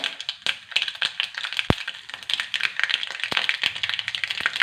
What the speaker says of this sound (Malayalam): ഒന്ന് പൊട്ടി വരട്ടെ